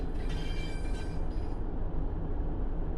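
A TfW Class 142 Pacer diesel unit in Train Sim World 6 rumbles along steadily with a low rolling rail drone and faint high wheel whine early on, heard alone without talk.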